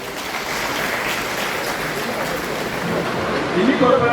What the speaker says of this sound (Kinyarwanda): niha amashyi.